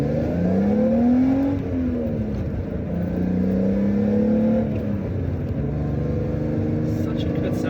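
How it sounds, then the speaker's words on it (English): A 1987 BMW 325is engine accelerating from inside the car, a loud steady drone with rising pitch sweeps as it revs through the gears and downshifts. "Such a good sounding engine."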